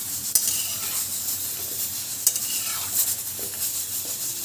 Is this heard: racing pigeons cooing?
no